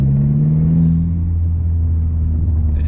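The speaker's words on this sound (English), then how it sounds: "the turbo's spooling up immediately" Engine of an MK4 Golf GTI with an aftermarket exhaust, a steady low droning rumble at close range, holding fairly even revs with a slight dip partway through and no talk over it.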